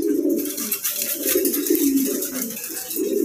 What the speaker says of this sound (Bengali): এটা হলো চুইটাল আর্চেঞ্জেল, মাশাআল্লাহ খুবই সুন্দর এবং কি বিগ সাইজের এটা।